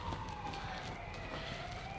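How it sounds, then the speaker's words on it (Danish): City sirens wail from a distance, a steady rising and falling tone over constant traffic and street noise throughout. "nu kan vi da høre, at vi er i byen, hva'? Ja. Lidt sirener gang i den"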